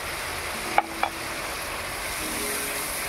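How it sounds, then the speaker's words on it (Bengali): Spice paste with Kashmiri chili, cumin, coriander and chili powder sizzles softly in a pan for hilsa biryani, a steady faint frying hiss broken by two quick sharp knocks of a stirring spoon. "এবারে মশলাটাকে ভালো করে কষিয়ে নেব।"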